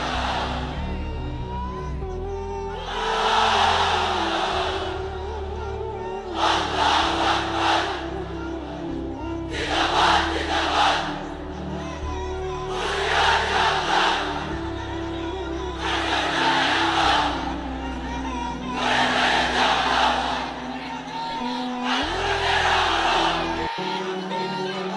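Large crowd at an outdoor Islamic waz mahfil under a pandal, roaring takbir chants in loud repeated bursts, about six surges swelling and fading over a continuous backdrop of music-like drone and amplified ambience.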